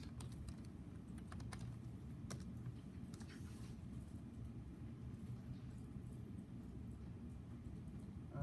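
Computer keyboard typing at a desk during a graphic design tutorial: scattered light key clicks, a quick cluster early on, over a steady low room hum, with no talk.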